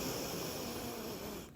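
A voice imitates loud sniffing: a breathy, hissing intake held close to the mic for about a second and a half before it tails off.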